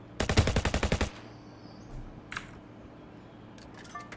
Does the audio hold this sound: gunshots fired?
yes